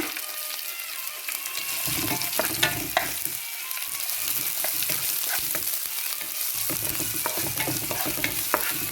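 Green chilies sauté in an oiled pan for a quick beetroot dish, giving a constant, fairly soft sizzle. Irregular stirring scrapes and clicks come from the utensil against the pan, with no voices.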